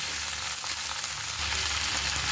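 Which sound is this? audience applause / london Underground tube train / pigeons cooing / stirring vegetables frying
stirring vegetables frying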